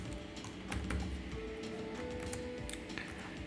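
Typing on a computer keyboard while writing Python client socket code for a Raspberry Pi, with soft, close keystrokes over a steady low hum and no talk.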